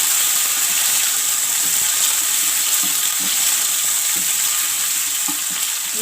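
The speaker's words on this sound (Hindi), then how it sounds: "अब हम इसमें जो है प्याज शामिल करेंगे। प्याज को हम लाइट बिल्कुल गोल्डन करेंगे" Chopped onions fry in a pan on the stove and are cooked only to light golden. A loud, steady sizzling hiss fills the whole stretch, with faint stirring taps underneath.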